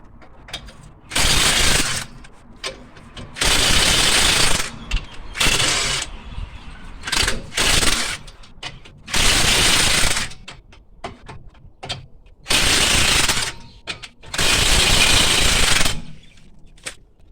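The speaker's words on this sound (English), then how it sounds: "Loosen off the nuts, then you can jack it up a couple of inches so it's off the ground" Mechanical ratcheting from loosening car wheel nuts and jacking up the car to swap a flat tyre comes in loud repeated bursts of a couple of seconds each, separated by short quieter pauses, with no talking.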